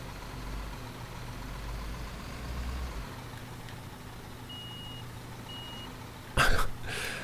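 A truck reversing in Construction Simulator 15 gives two faint, short warning beeps over a steady low engine rumble, followed by a brief louder clatter near the end.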